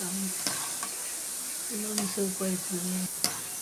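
Kara boondi frying in hot oil, a soft hissing sizzle broken by a few sharp clinks and scrapes as a ladle stirs the batter drops in the pan, with faint voice-like tones in the background.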